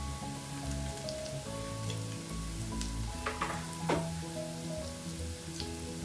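Green chillies are dropped into hot oil with fenugreek, ginger and garlic for a fish-head curry with kudampuli, giving a close, steady sizzle and crackle with a few sharper pops and stirring scrapes throughout.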